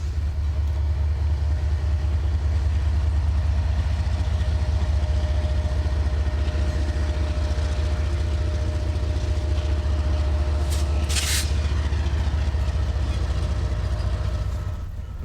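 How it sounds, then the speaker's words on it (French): An old diesel train locomotive rumbles past in Canada, a loud, steady low engine drone holding throughout with a faint metallic squeal partway through, heard up close outdoors. "il y a un train là qui est en mouvement"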